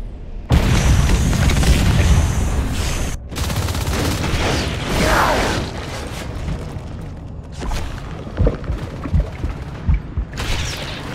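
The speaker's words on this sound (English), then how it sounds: "I'm gonna drop a frag down over at OBS." A frag grenade explosion in the sci-fi shooter Natural Selection 2 erupts loudly with a heavy, rumbling boom, followed by sustained blast noise and a scatter of smaller thumps and impacts that gradually thin out.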